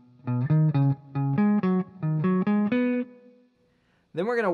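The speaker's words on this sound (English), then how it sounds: "So altogether, this first kind of phrase, which ends on the downbeat, a measure 2, sounds like this." Electric guitar plays a lick phrase ending on a downbeat: a quick run of about a dozen clean, plucked notes in bursts, then a brief pause before a sliding note at the end.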